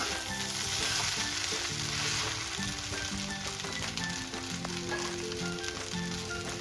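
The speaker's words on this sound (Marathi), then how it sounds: "आता आपण पुन्हा एकदा व्यवस्थित परतून घेऊया." Tomato rice sautéing in a pan, a steady dense sizzle and fry hiss with occasional stirring scrapes, close and continuous with no talk.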